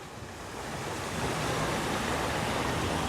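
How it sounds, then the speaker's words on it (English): A fountain water feature in a town square gives off a steady, broad rush of splashing water that swells slightly and then holds, heard up close with no talk. "Here's your beautiful water feature."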